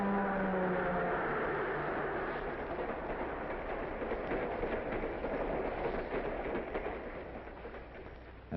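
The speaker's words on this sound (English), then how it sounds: "The train is passing under a safe highway crossing built above the tracks." A train rumbles past in a steady broad roar that slowly fades, with a low drone beneath and no voices.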